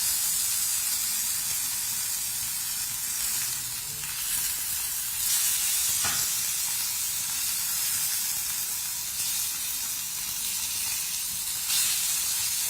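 Lamb chops browning in a hot pan, giving a loud, continuous hissing sizzle that holds steady throughout with brief spitting bursts and no voices.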